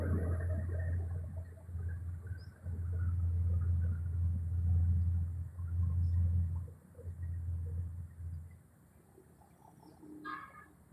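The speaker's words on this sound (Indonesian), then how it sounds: "Banyak masuk bus." Heavy bus engines rumble loudly at a morning terminal in Palembang, a steady low drone that swells and dips as vehicles pull in, then fades, with birds cooing faintly in the background and no speech.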